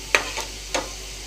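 Onions are stirred in a frying pan: three quick scraping strokes over a faint, steady sizzle, close by.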